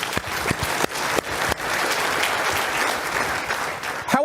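An audience at an SHRM 2022 conference session applauds, a dense sustained wash of many hands clapping for about four seconds, with a few louder individual claps near the start.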